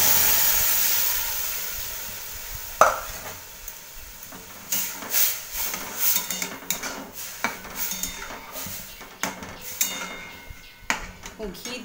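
Semolina frying in ghee gives a soft, steady hiss, broken by a run of scraping and clinking stirring strokes against the pan in the second half.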